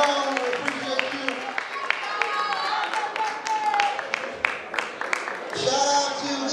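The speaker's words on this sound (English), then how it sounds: "Clap up for Mr." Sharp, uneven hand claps come from an audience at a school talent show as it applauds the sound and lighting technician. The clapping is continuous and mid-distance, with chatter and voices running throughout.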